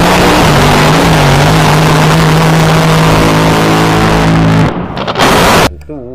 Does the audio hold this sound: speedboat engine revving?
yes